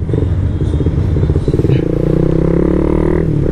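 A Raider 150 FI motorcycle fitted with an RL power pipe exhaust rumbles loud and close, running with a crackling, pulsing note that shifts partway through.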